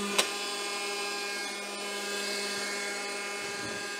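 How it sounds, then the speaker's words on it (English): The flywheel of a DeWalt cordless framing nailer keeps spinning after firing, making a steady, close whirring hum with a faint click at the start and no voices. "So when you come off, you can still hear the flywheel going."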